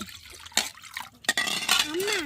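Cold cow's milk poured into a vessel at home, a short splashing stream of liquid after a couple of light clinks of dishware, with a person talking over it.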